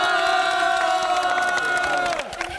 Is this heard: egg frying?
no